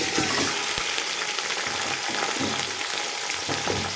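Chicken sizzling in a pan of browned onions for a degi chicken pulao, a loud, continuous frying hiss with occasional stirring scrapes, close up and without voices.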